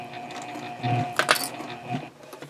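A sewing machine stitches up the side of a fabric project bag, with a steady close mechanical whir and a few light clacks.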